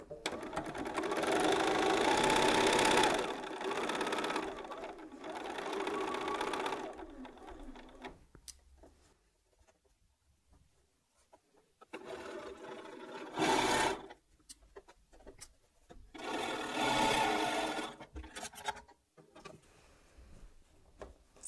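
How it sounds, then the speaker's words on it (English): A sewing machine stitches across a quilt block made from charm pack fabric squares, running in several loud bursts of steady whirring with quieter pauses of handling fabric between them. "we're going to sew right the way across"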